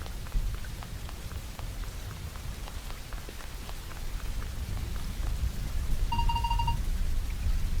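Rain in the Roblox game Loomian Legacy, a steady, dense patter of drops on a surface that grows slightly heavier, with a short electronic chime near the end and no talk.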